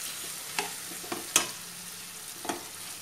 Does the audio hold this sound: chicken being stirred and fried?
yes